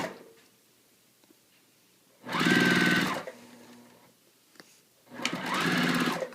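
Sewing machine stitching a quilt ring seam: two steady whirring runs of the motor and needle, each lasting about a second or so, separated by a quiet pause with faint handling noise.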